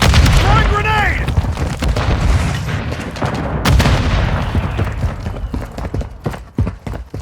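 A grenade explosion in Call of Duty: Modern Warfare 3 sounds as a sharp, loud broadband blast that rolls off amid scattered gunfire, clatter and other battle noise.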